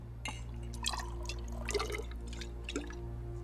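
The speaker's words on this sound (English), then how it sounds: "start off with 5 milliliters of distilled water" Small amounts of distilled water measured out in a lab setting, producing several faint, sparse drips and light liquid plinks against a steady low background hum, with no talking.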